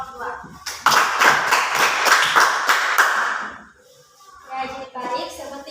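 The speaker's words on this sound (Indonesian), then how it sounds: "Saya memberikan aplaus kepada kelompok 2" Students in a classroom clap together for a presenting group, a dense rhythmic burst of applause lasting a couple of seconds, followed by scattered voices and murmuring.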